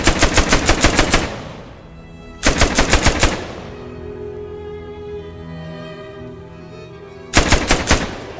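Rapid automatic gunfire in the Dead Rails video game, three separate bursts of quick evenly spaced shots with quieter gaps between, loud and close.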